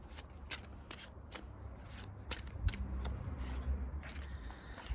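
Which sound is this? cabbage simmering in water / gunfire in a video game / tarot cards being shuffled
tarot cards being shuffled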